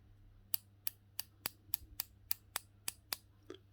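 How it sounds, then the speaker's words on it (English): An Accurist 7270 dive watch's 120-click bezel turns with crisp, sharp clicks at a steady pace, about ten of them, quiet and close against a faint low hum. "I'll stop talking so that you can hear the bezel."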